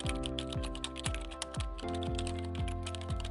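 Rapid, steady keystrokes tap on a computer keyboard at close range, layered over a low tonal background hum, with no voices.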